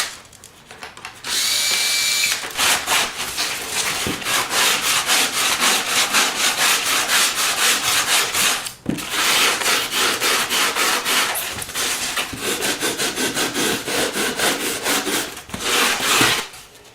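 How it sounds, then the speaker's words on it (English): Sandpaper wrapped around a tin can, 80 grit on one side and 50 grit on the other, rubbing hard against a motorcycle part of a Honda Sabre cafe racer build, a loud continuous rasping with short pauses between strokes. "Got this tin can that I stuck some sandpaper to, 80 grit on one side and 50 grit on the other."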